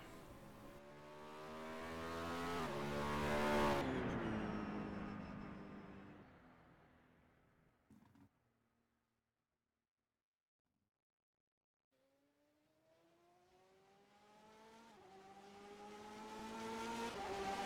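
GTE race cars pulling out of the pits at Le Mans in a racing game, engines rising in pitch as they accelerate away and fade to near silence, then another car revving up and approaching.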